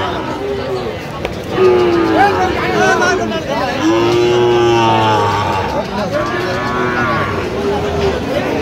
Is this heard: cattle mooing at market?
yes